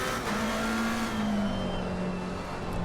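A McLaren race car in a racing game runs at Monza, its engine holding a steady high drone near full throttle with a gently falling pitch and a constant loud roar throughout.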